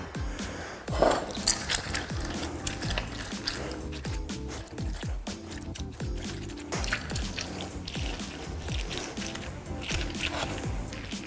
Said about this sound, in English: Then I'm gonna do at least a couple lemons.